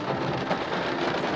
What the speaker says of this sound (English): It's hailing today.